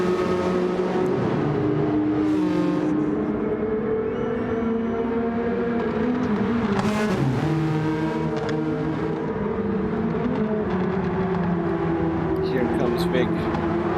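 RXGT race cars circling a track at Dragon Trail Gardens during a sprint series round, engines droning and shifting as they pass at a distance, heard steadily beneath continuous race commentary.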